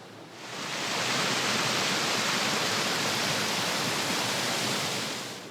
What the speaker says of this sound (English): Twin Falls is where Long Devil's Fork and Big Devil's Fork converge with side-by-side waterfalls of 20 to 25 feet.